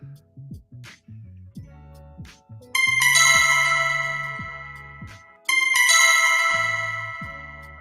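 A TradingView alert bell rings out twice as bright, ringing chime tones, each sustaining and slowly decaying, with short plucked musical notes playing underneath.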